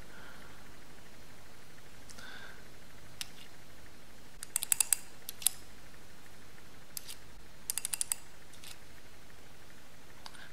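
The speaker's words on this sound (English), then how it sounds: "Now that I have this switch fully assembled, I can screw it back into the tube." An assembled switch is screwed back into a flashlight tube, giving quiet, scattered clicks and short bursts of rapid ticking from the threads against a low hiss, with no talking.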